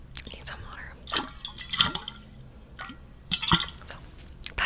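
Water being drunk from a water bottle close to the microphone in a quiet ASMR setting, with soft wet sips, swallows and small squishy liquid sounds in several bursts.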